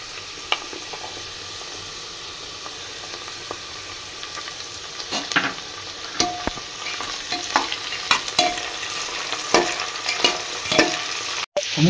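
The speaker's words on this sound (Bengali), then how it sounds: "এবার আমি যেটা দেবো সেটা হচ্ছে ওই কাজু এবং কিশমিশটা" Cashews and raisins frying in a pan with vegetables for pulao, a steady close sizzle broken by scraping stirs and clinks of a spoon against the pan.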